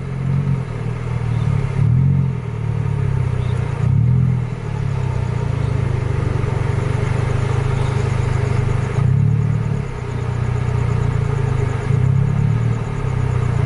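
A Scania-engined bus pulls away, its heavy diesel engine droning loudly and close with a deep, steady rumble. Rough revving surges come and go at intervals, with no talking.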